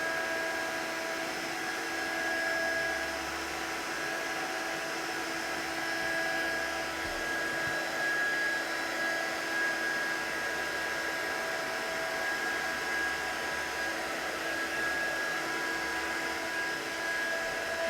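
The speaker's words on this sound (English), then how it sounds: "we are just holding that heat gun still, and as soon as that powder changes, I'm just moving it over the image" A heat gun blows steadily to melt embossing powder on a stamped card, a constant airy whir with a faint whine, held at even loudness throughout.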